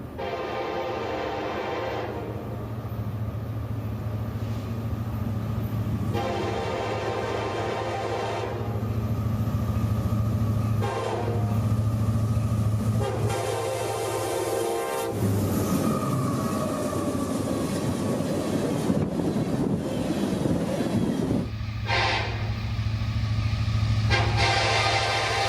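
A northbound ethanol freight train hauled by KCS and CP locomotives roars past at speed on the S Line, long horn blasts sounding repeatedly over the rumble of rolling wagons, loud and close throughout.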